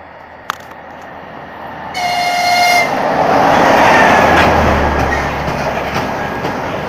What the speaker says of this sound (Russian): Это поезд Триж.